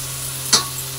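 A paste of ground poppy seed, mustard and green chilli lands in a hot pan for an okra dish, giving one short, sharp hiss that quickly settles into a faint sizzle over a low background hum.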